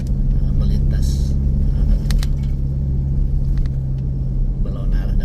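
Cars passing in the opposite direction on a rural alternative road between Banjarbaru and Batulicin, heard from inside a moving vehicle as a constant low engine and road rumble, with brief whooshing swells and rattles as oncoming traffic goes by.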